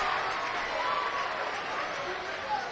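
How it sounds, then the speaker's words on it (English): Lennox crowd at a high school basketball game roaring after a made free throw, a dense, sustained cheer filling the gym with a commentator talking over it. "The Lennox crowd erupts."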